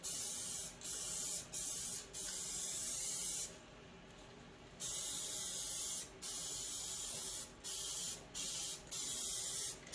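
An aerosol spray can lays a light coat onto a car's repaired rear quarter panel in repeated close bursts of sharp hiss, with short gaps between passes and one longer pause midway, no voices.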